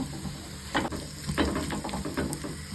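Cashews and raisins drop into a pan of ghee for godhi payasa and sizzle softly, with a few brief stirring scrapes over a steady low hiss and no voices.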